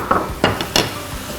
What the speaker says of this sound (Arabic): هلأ حقلب كل هالمكونات مع بعض لغاية ما تاخد برضو هيك تحميصة حلوة